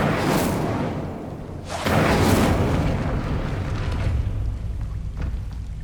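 The Incendio fire spell is cast in the Hogwarts Legacy video game, a roaring fiery whoosh that swells abruptly and burns on loudly, then fades slowly.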